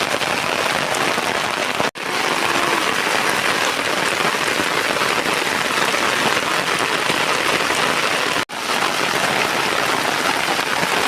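Heavy rain falls steadily on flooded rice paddy fields in Assam, a dense, loud, continuous hiss with two brief dropouts, with no voices.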